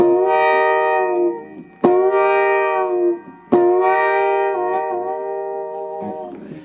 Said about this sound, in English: It's the Nashville Telecaster wah-wah track.